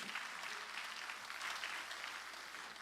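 Church congregation applause during a sermon, a faint, even patter of many hands clapping continuously throughout.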